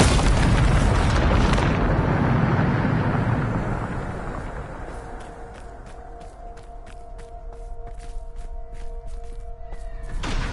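A Bombarda spell explosion in the Hogwarts Legacy video game gives a loud, broad booming blast that rolls on for several seconds, then fades into a quieter rumble as sustained musical tones take over.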